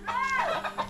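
A chicken clucks close by, a quick run of short, throaty squawking notes over a steady background hum.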